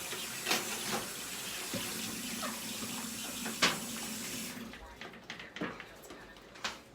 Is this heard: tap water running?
yes